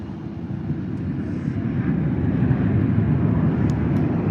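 Jet airliner landing at Palm Springs airport, a loud rumbling engine roar that swells steadily and stays close, with no talk over it.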